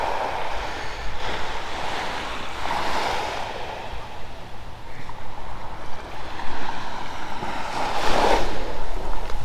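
Ocean waves at high tide wash in steadily on a beach on Santa Catalina Island, a broad rushing surge swelling louder toward the end, with wind buffeting the microphone throughout.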